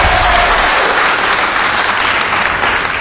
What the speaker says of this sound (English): I couldn't hear your name because all the clapping